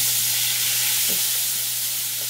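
Flour cooking in hot oil for a roux, a steady soft sizzle with faint stirring scrapes, close by and without voices.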